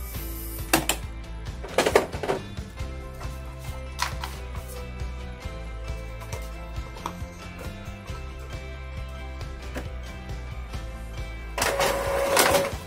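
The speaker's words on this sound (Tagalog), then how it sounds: "nagpiprint yung ating printer" An Epson L-series inkjet printer runs steadily with mechanical clicks and ticks, its carriage moving in short repeated passes, with louder feed noises at the start and end.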